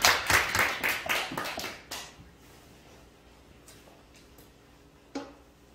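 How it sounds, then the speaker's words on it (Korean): A short burst of clapping from a church congregation during a service, loud at first and fading to quiet within about two seconds, followed by a few faint taps. "우리 하나님께 영광의 박수 올려드립시다."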